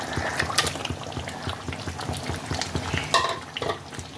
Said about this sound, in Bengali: এবার আমি এর মধ্যে দিয়ে দিচ্ছি ভেজে রাখা পনিরগুলো।